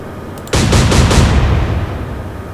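Warship guns fire in the naval video game Atlantic Fleet: a few faint clicks, then a loud booming salvo of rapid overlapping blasts that rumbles on and slowly fades, with no voices.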